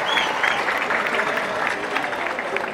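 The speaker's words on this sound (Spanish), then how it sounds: "Es al único que le vamos a aplaudir" A parish gathering applauds a priest being introduced, a steady wash of many hands clapping at moderate volume, with some voices mixed into the crowd noise.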